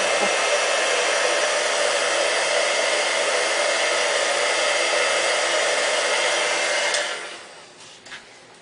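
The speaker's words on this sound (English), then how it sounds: "There, I've heated the embossing powder, and you may be able to see that it's glittery, which means that the powder melted." A heat tool blows with a loud, constant whooshing hum as it melts embossing powder, then switches off and fades away near the end.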